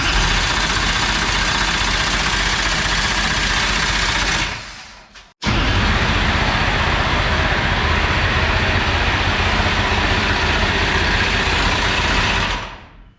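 Super late model race car engine cranked and running, a loud steady broadband roar that cuts out briefly, then fires back up and runs hard and continuous until near the end, with no talk over it.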